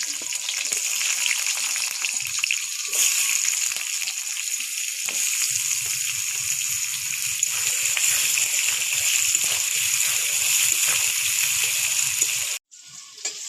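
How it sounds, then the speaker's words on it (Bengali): Green tomatoes sizzle steadily in hot oil, a dense continuous frying hiss with occasional stirring clatter, close and loud throughout, cutting off abruptly near the end. "কাঁচা টমেটোগুলো খুব ভালো করে ভেজে নেব"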